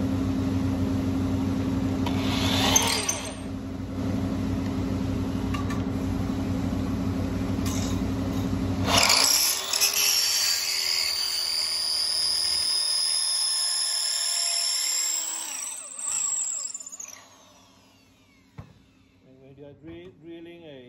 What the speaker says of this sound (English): Drilling a long horn